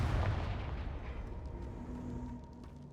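The Confringo fire-blast spell in Hogwarts Legacy bursts with a heavy booming explosion at the start, then a fading rumbling tail that quiets over a few seconds.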